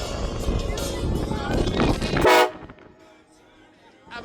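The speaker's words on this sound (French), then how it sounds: "on a entendu le klaxon" A vehicle horn sounds at a custom car show in a US city, a loud brief toot that cuts off sharply after a couple of seconds of busy ambient noise, followed by quiet.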